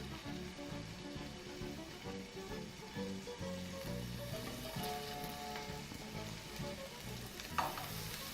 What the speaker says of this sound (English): All we're going to do now is transfer our bacon to our pan.